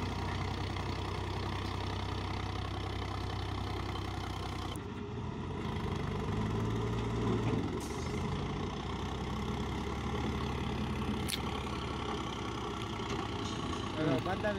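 A tractor engine idles with a steady low rumble and throb, continuous and fairly close, as people talk over it.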